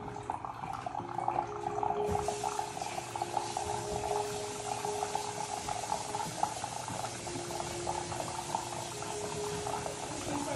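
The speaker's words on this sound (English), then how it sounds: "I'm gonna turn my sink on." Cold water running from a kitchen sink tap, a steady close rushing splash that continues without a break.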